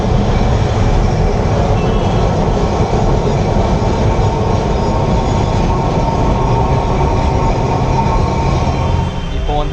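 Tram rolling along street tracks beside a road in Kolkata, a loud, steady rumble and rattle of wheels on rails heard close by, continuing without pause.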